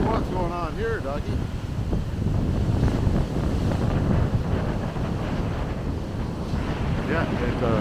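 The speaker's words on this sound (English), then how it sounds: "a windy, wavy day." Gusty wind buffets the microphone on a lake shore while waves wash in steadily; a dog is nearby, and a voice talks briefly at the start and end over the continuous roar.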